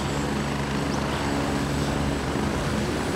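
Helicopter arriving at a landing zone in the military shooter game Gray Zone Warfare, a steady broadband rotor and engine roar, loud and constant throughout, with no voices.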